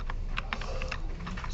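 Someone types on an instructor computer's keyboard during a programming lecture, producing quick, irregular key clicks over a steady background hum, close and moderately loud.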